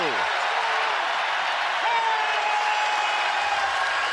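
A basketball arena crowd at a VCU at Dayton game roars and cheers steadily, a broad wash of noise under a commentator's voice.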